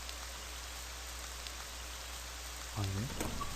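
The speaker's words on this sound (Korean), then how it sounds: "오 비온다" Steady hiss of rain falling in the horror game Ib, a constant even wash throughout with a short voice-like sound near the end.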